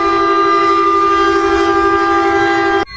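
A train in the RO-Scale video game passes a station, its steady horn-like tone holding for nearly three seconds, loud and close, before cutting off abruptly at the end.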